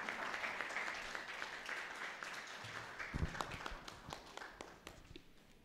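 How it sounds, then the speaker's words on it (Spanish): Audience applause for an engineer introduced as a speaker at a talk on formal education and traditional diet, moderate steady clapping from a crowd that grows a little more uneven toward the end, with no voices over it. "Un fuerte aplauso,"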